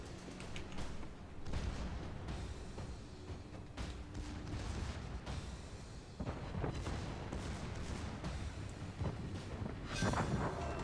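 Naval 10cm guns fire in a warship video game, producing repeated booming reports at irregular intervals over a steady rumbling battle background, moderately loud and without voices.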